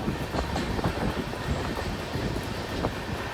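A passenger train runs along a ghat railway line through hilly forest near Narmadapuram, giving a steady, close rumble with faint rhythmic clatter of wheels on the tracks and wind rushing past, no voices.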